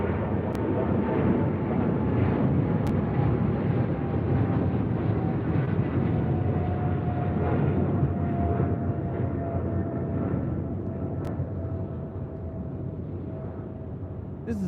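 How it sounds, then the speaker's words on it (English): A Coletta Air Boeing 777 freighter operating for DHL takes off on runway 25 right at LAX, a loud sustained jet roar with a slowly falling whine that fades gradually as it departs. "We're doing that Coletta Air 777 now taking off on 25 right"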